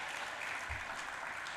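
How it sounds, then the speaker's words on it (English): Audience applause at a conference session on Africa's health agenda, a continuous even wash of many hands clapping, moderately distant and soft, with no break across the whole stretch. "Please, a round of applause."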